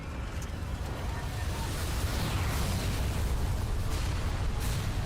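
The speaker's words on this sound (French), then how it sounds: "Explosion." An explosion in the video game Final Fantasy XII comes through as a sustained, broad rumbling roar with a few sharper bursts, moderately loud, with faint game voices mixed underneath.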